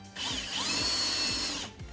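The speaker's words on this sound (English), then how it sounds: "I was really anxious to get it put on a drill press and just put some weight into it." A drill press bores with a worn bit while a metal push bar is built for a 1978 Toyota truck, a loud whining grind lasting about a second and a half with rhythmic ratcheting clicks underneath, then stopping.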